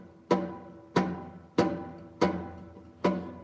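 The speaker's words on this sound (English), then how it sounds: "what you're going to do in the right hand is pluck all of the notes at the same time" Four muted guitar strings plucked together with the right hand while the left hand only touches them, giving five evenly spaced percussive thuds with short decays, close and alone.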